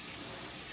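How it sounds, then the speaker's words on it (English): Water running from a kitchen sink tap while cooking fried ribs, green beans and potatoes, a steady close broadband rush and splash lasting the whole moment with no talk over it. "So I just add a little bit more water to it"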